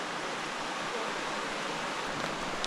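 Thermal spring water flowing and splashing in a canyon, a steady broad rushing hiss like a small waterfall, continuous and fairly close with no clear breaks.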